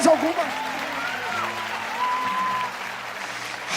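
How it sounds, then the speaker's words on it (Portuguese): Church congregation clapping during a Portuguese-language sermon, a steady wash of applause under a preacher's raised voice and tonal sounds that carry over the claps. "Quem crê, aplaude"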